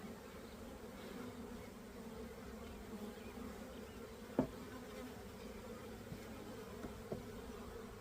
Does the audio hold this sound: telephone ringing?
no